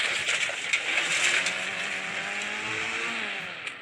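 A tractor driven in the Indian Bikes Driving 3D video game, its synthetic engine droning steadily with a rising pitch throughout, continuous and fairly even in level, no voices.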